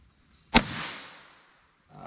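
A .22 Long Rifle shot is fired into four layers of denim, clear ballistic gel and quarter-inch MDF: one sharp, loud crack whose echo tails off over about a second, then near silence.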